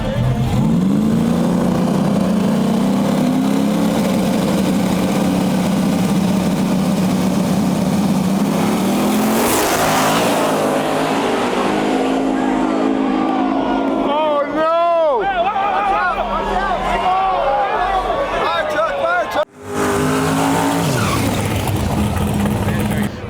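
Race cars on a dangerous race track, including a little Corolla: an engine idles, then revs hard with rising and falling sweeps as cars launch and pass, with crowd babble and talk mixed in.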